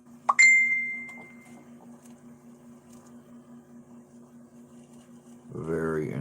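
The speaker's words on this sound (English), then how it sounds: "who's dinging my bell?" A single clear, bright bell ding rings out and decays over about a second against a low steady hum, followed by a voice starting to speak.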